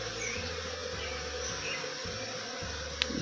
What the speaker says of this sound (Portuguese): Tem todo tipo de abelha.